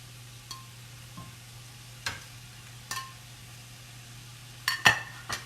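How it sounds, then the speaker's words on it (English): Beef going back into a pan for cheesesteak sandwiches produces a faint sizzle beneath a steady low hum, with scattered clinks and scrapes of a utensil against the pan, a louder clatter near the end. "Beef is going back in the pan."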